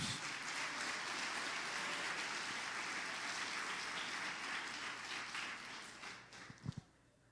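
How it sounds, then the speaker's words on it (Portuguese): A church congregation claps together in sustained applause that fills the room, gradually thinning out toward the end with a few last scattered claps. "Vamos dar uma salva de palmas para Jesus."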